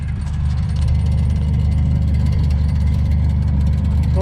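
A 1978 Buick Skylark idles steadily with a brand-new exhaust, a loose clamp letting it rattle; the low, even engine rumble runs close and constant throughout with no talking.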